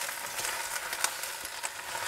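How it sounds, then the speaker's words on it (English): Pre-seasoned food fries in a pan in a Gullah home kitchen, giving a soft, steady sizzle with scattered crackles and pops, fairly quiet and with no talk. "You can hear that noise. There we go. It's frying."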